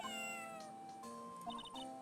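Shoo, a cat in Ace Attorney Trilogy, lets out a short series of game-style meows, bright and clear, with no talk over them.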